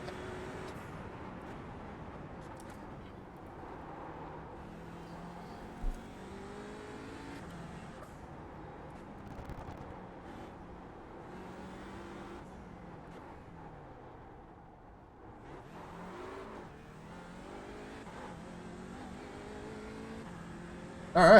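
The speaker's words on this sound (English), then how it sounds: "you can kind of zen out to the sound of the Audi TCR at Long Beach" An Audi TCR race car engine at Long Beach in a racing video game, faint and distant, its tone rising and falling through gear changes with a steady drone underneath.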